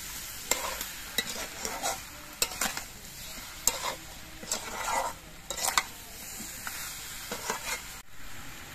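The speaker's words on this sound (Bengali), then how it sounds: "চিনিটা দিয়ে নেড়ে চেড়ে মিশিয়ে দিচ্ছি।" Sugar is stirred into sweet-sour mango pickle in a pan: a spoon scrapes in repeated short strokes against the metal, with a faint sizzle between them, close and fairly quiet.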